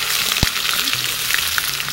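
Cardamom, cinnamon, cloves and onion fry in a pan as the base for a village-style duck curry, making a loud, dense and continuous sizzle with a few quick stirring sounds, up close and with no talk.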